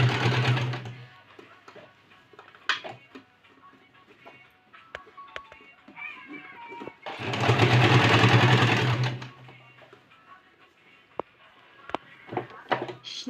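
A sewing machine stitches along a lightly folded fabric edge for a costume, running in two bursts of steady whirring, the second longer and louder, with quiet handling sounds in between.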